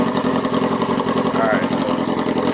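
A Yamaha R1 motorcycle idles just after a cold start, its engine throbbing in a steady, rapid pulse close to the microphone.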